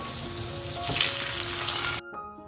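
Potatoes deep-browned in oil for egg curry give a close, continuous frying hiss with a few faint clinks, swelling briefly before cutting off abruptly near the end.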